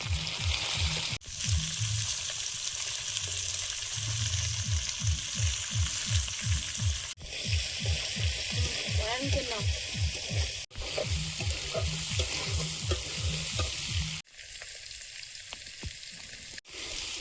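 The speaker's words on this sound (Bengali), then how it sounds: "গাজর আর ওলকপিটা একটু ভেজে এসছে এবার দেবো বিন কড়াই" Carrots and kohlrabi frying in oil in a wok, a steady close sizzle broken by rhythmic scraping strokes of a spatula stirring the vegetables, with a few brief pauses.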